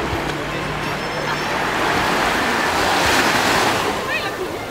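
Sea waves washing onto a beach on Koh Larn island in Thailand, a continuous surging roar of surf with wind buffeting the microphone and faint voices in the background.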